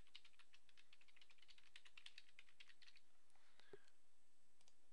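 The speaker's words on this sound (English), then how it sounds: "Type in your email address that was on your application." Typing an email address on a computer keyboard, a run of quick light keystrokes in an uneven patter for about three seconds, then a few isolated taps, close and fairly quiet with no talk.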